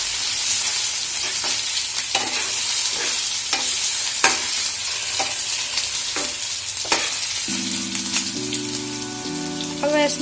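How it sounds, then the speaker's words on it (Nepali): Diced potatoes are stirred and cooked in a hot oiled pan for a Nepali masaura curry: a steady sizzle with repeated scraping strokes of the spoon, close and fairly loud, with no voices. "आलु राखिसकेपछि हामीले यसलाई राम्रोसँग चलाउँदै पकाउँदै गर्न पर्छ।"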